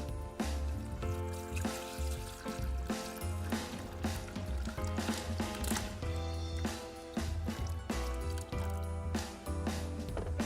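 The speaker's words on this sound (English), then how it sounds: "and then we can add our water" Water poured into a glass vase, a close, faint gurgling trickle with bubbling, sloshing pulses that continue unevenly for several seconds, no voices.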